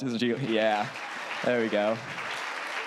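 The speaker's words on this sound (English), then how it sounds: "Give her a round of applause." Audience applause rises at a live stage show, a steady background of clapping beneath a close voice talking over it.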